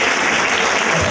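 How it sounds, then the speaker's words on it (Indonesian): A farewell concert audience for Richard Samuel Awuy applauds in a dense, close burst of clapping that stays steady through the whole brief moment. "Mari kita sambut dengan aplaus sekali lagi"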